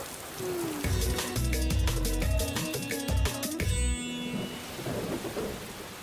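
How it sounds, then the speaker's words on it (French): Cartoon thunder rumbles loudly over steady rain, with a burst of rolling cracks and booms before the storm eases to softer rainfall toward the end. "C'est officiel, j'adore la pluie."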